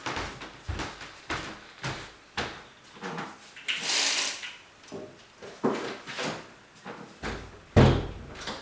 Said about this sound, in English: I forgot to close my door.